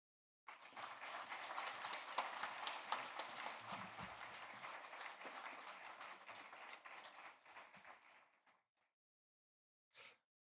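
Congregation applauding at a church thanksgiving service installing a university foundation chairman, a dense burst of clapping lasting about eight seconds, then fading out, with one brief clap after a pause.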